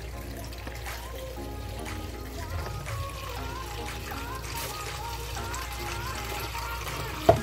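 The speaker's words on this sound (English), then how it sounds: "I'm gonna use some filter water to rinse the noodles." Filtered water pours from a container to rinse cooked spaghetti noodles, a steady trickling splash in a home kitchen with music playing faintly underneath and a small clunk at the end.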